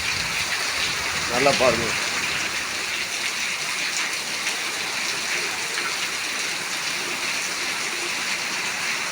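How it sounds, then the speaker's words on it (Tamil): Heavy rain pours down steadily in Tiruppur, a dense, constant hiss of water falling throughout, with someone talking over it near the start. "பாருங்கள் மழை திருப்பூரில் பயங்கரமாக அடித்து தண்ணி ஊற்றிட்டு இருக்குது"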